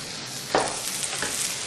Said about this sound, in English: go ahead and use your masher and spoon just to kind of get these all